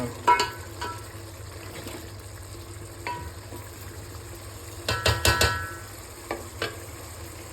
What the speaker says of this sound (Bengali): তো আলুগুলোকে এর সাথে ভালো করে মিশিয়ে দেবো যাতে এর মশলাগুলো আলুতে ভালো ফ্লেভার দেয়।